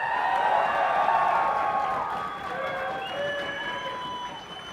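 An esports arena crowd at a Las Vegas tournament cheering and applauding loudly, with a dense roar of clapping and shouts that slowly eases off.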